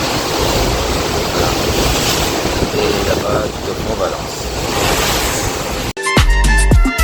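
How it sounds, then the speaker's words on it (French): Sea waves and strong wind rushing past a boat heading back from Tangier toward France, a loud continuous roar and wash while someone speaks over it, then a brief break into a different noisy scene at the end. "avec beaucoup de vagues là, bon ça écrase hein, mais c'est du vent."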